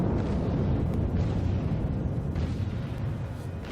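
Battleship main gun turrets fire in World of Warships, a heavy, sustained rumbling boom that fills the whole stretch and slowly fades, loud and close with no talking over it.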